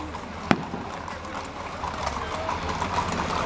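Horses in a riders' parade of cavaleiros and amazonas in Santo Antônio do Amparo, Minas Gerais, their hooves clopping in a loose, continuous patter on the street, fairly faint. One sharp knock stands out near the start, and crowd noise swells toward the end.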